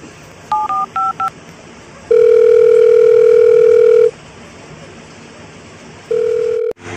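A phone call being placed: a quick run of four keypad beeps, then a long, loud, steady ringing tone, a pause, and a shorter repeat of the same tone.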